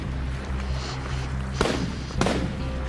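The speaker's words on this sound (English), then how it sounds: "a gunshot echoes through the forest" Gunshots echo through a forest: two sharp cracks about half a second apart, each trailing off in a short reverberant tail over a low, steady background rumble.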